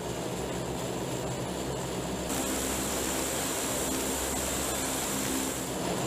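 Engines on a large gunship aircraft start up and build into a loud, dense, continuous roar and whine that swells partway through and then holds steady.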